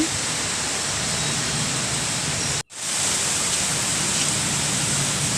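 Heavy rain pours down steadily and loudly as a dense, even wash of noise, broken by one short cut to silence midway before resuming.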